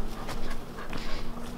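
Tired dogs panting after a walk, quick close breathy huffs with a faint whimper mixed in, over a low steady hum indoors.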